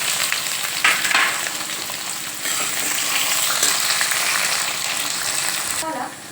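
Chopped onion fries in oil with whole garam masala, a loud, continuous sizzle with stirring scrapes and a few sharper bursts, then a brief drop in level at the very end.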